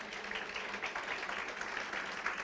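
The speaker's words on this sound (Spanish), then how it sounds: "dale un fuerte aplauso al Señor" Church congregation clapping for the Lord during a Spanish-language service, a dense steady wash of applause throughout, fairly loud and close.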